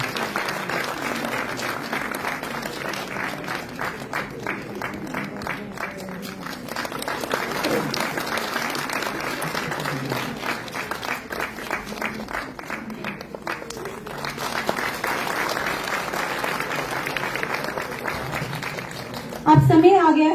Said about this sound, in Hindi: तालियां नन्हे बच्चों के लिए